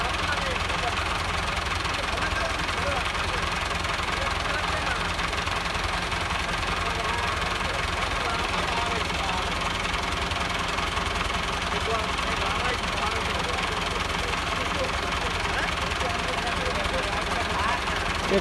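A Massey Ferguson 375 tractor engine idles with a steady low knocking rumble and vibration, continuous and close, as voices talk over it.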